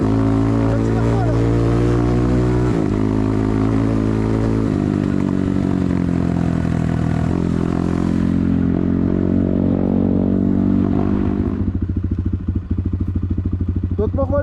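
A small BTC 300 motorcycle engine running close by, a loud steady throbbing drone that rises and shifts in pitch as it is revved, with a voice talking over it near the end.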